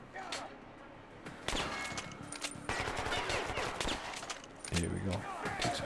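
Gunfire in the video game Metro Last Light, a dense, continuous stretch of loud shots and rattling bursts with shifting intensity, filling the whole span, voices faintly mixed in.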